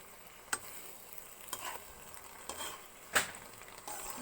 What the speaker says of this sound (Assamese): ভালকৈ লৰাই লৈছোঁ এতিয়া।